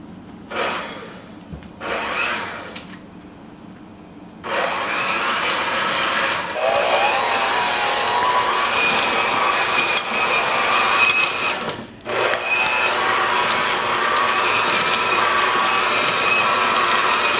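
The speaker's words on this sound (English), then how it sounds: "So we're gonna blend it." An electric mixer running on low speed through keto chocolate chip cookie batter, a steady whirring drone after a couple of short bursts, with a brief stop before it continues.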